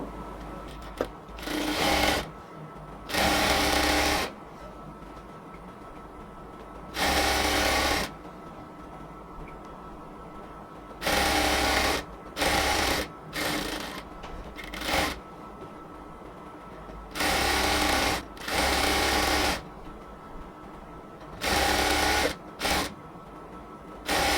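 A sewing machine double-stitches the joint seam of a salwar, running in short loud bursts separated by quiet pauses, close to the microphone.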